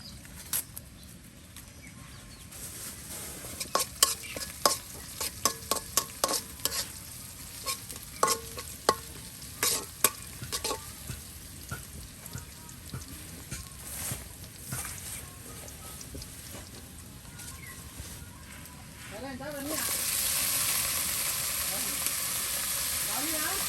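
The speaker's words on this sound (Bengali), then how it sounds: "আপনাদের এখানে ভাজি করে দেখানো হচ্ছে পাঁচমিশালি ভাজি" Mixed vegetable bhaji of vine greens, ridge gourd, chopped potato and Malabar spinach stems fried and stirred in a pan in a rural kitchen, with irregular scraping strokes over a steady sizzle that swells louder near the end.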